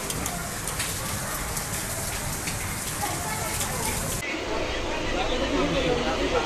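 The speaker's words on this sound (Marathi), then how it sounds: "किती मोठा पाऊस आला" Heavy rain pours down steadily, a dense close hiss of drops on surfaces that continues throughout, with a voice talking over it.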